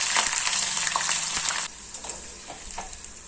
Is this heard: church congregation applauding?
no